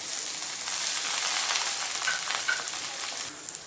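Chopped potato and onion sizzling in hot oil with black mustard seeds and a dried chili, a steady bright hiss close by, rising after a moment, with a couple of faint clinks.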